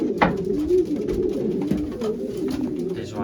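Racing pigeons coo in a breeding loft, with a steady chorus of soft, rolling coos layered close together and a few sharper calls and rustles mixed in.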